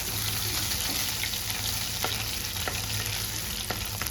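Crushed ginger sautéing in hot oil for a fish curry, a dense, loud, constant sizzle with a few sharp spoon taps against the pan, close by and without talk.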